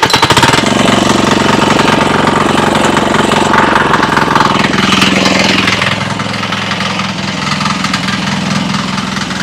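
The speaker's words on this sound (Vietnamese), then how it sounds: "Quân nổ máy đi" Small engine started and left idling, a loud steady rattling drone that runs continuously and settles slightly lower partway through, with no talk.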